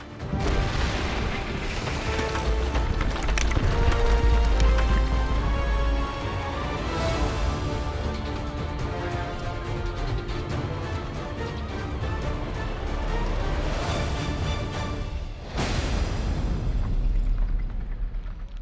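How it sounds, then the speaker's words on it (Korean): Rock blasting at a huge stone quarry where workers cut raw stone from a rock mountain: repeated loud, deep booms with a sustained roar of falling debris, sharper bursts standing out near the middle and toward the end. "연달아 터져나오는 폭발음과 함께 크고 작은 돌덩이도 쏟아져 나온다."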